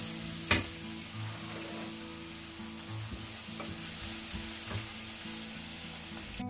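Onion fries in olive oil in a pan, with a steady soft sizzle throughout, a few sharp clicks of stirring over the top, and a low background hum beneath.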